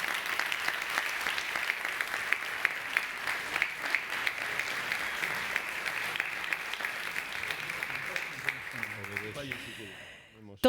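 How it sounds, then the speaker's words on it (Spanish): A seated audience at a meeting of volunteer associations gives steady, sustained applause that stays even and fairly soft for about ten seconds, then stops abruptly. "Se merecen más que un aplauso."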